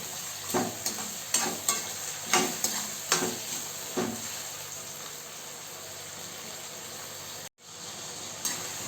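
Tomatoes frying in a pan with coarse salt, stirred in a series of sharp scraping strokes over a steady background sizzle, then the stirring stops and only the faint frying remains.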